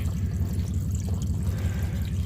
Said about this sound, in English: just that little trickle of water coming in there